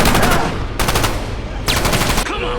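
Rapid gunfire from a blind mutant shooting in all directions in a film scene, close and loud sharp cracks in quick bursts separated by brief gaps.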